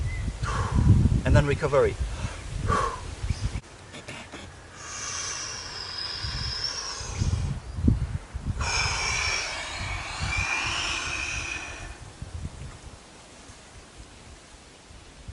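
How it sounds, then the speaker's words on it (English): A deep, slow inhale during a freediving lung-stretching exercise, drawn in after holding on empty with the belly pushed out, audible as a long breathy rush mixed with talk and some rustling. "you push your belly out and you inhale like this"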